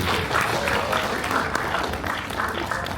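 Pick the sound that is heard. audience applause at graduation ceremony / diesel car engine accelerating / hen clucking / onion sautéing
audience applause at graduation ceremony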